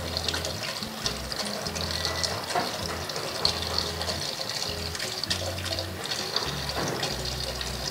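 Water pours steadily into a paludarium, its strong current broken up by rocks, making a continuous close splashing and gurgling rush with no talk.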